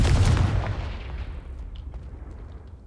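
A Confringo fire spell blasting off in Hogwarts Legacy, one loud booming burst up front that decays into a long rumbling tail, heard alone.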